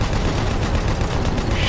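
Rapid gunfire in the shooter game Doom 3 BFG Edition, a dense, continuous burst of loud shots filling the whole moment with no pauses or talk.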